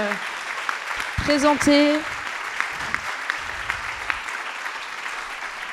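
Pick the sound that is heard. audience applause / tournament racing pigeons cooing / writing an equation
audience applause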